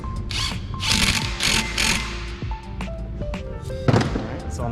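Ratchet tightening a bolt during a brake job on a 2017 Porsche Cayenne S, heard as a series of close, fast mechanical clicking bursts with metallic clanks and a sharp knock near the end.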